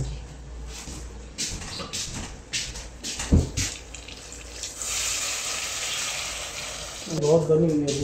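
Potatoes sautéing in a pan with spices, a soft steady sizzle and scraping stirs under occasional clatter, with a louder burst of frying near the end.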